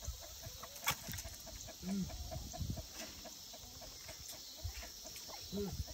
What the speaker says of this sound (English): Do you love those chickens?